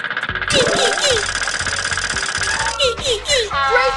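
Rapid metallic hammering clanks from a children's robot-fixing mobile game, mixed with bright electronic jingles and a constant mechanical hum, busy and loud throughout.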